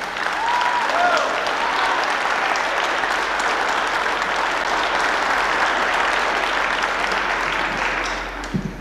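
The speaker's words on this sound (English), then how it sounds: "he certainly deserves an acknowledgement and a wonderful round of applause" Steady, dense applause from a jazz festival audience in a college hall fills the whole stretch at close range, holding full and even before easing slightly at the very end.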